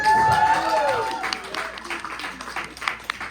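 A comedy show audience bursts into loud, dense applause and cheering, with a voice carrying over the start before the clapping continues on its own.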